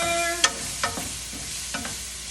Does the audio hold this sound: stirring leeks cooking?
yes